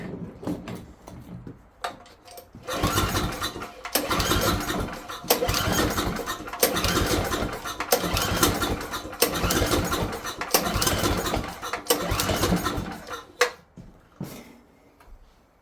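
A small engine is pulled over a few times with brief bursts, then catches after being unchoked and runs loudly and unevenly nearby, its rough, pulsing note wavering for several seconds before cutting off abruptly.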